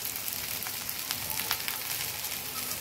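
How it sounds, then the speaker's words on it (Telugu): Carrot rice being stirred in a frying pan, a soft steady sizzle with faint scraping and tapping from the spoon, quiet and continuous, without talk. "ఇలా బాగా మిక్స్ చేసుకోండి."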